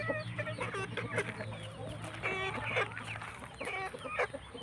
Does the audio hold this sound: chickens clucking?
yes